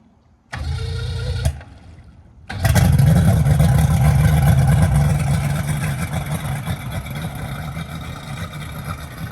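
A new Venom motorboat's engine cranks briefly, then starts and runs steadily with a loud, throaty low rumble that eases slightly over time.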